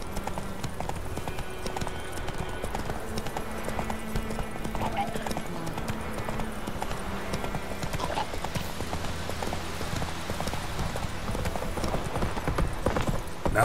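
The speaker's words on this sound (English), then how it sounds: "Not so fast, Roach" Galloping horse hooves in the video game Witcher 3 beat in a steady, rapid rhythm throughout, close and continuous, with game music and occasional speech underneath.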